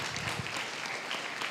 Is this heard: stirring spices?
no